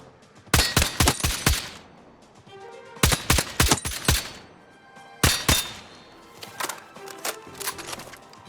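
Rifle fire in a Battlefield 6 multiplayer match rings out in three sharp, rapid bursts of five or six shots each, close and loud, followed by a looser scatter of quieter shots.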